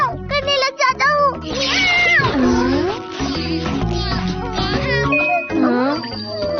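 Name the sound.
Doraemon imitating a cat meowing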